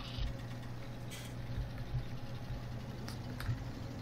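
Tractor engine in the video game Farming Simulator 17, an MR-ready model, idling in a low, steady hum, faint and constant, with a few small clicks over it and nobody speaking.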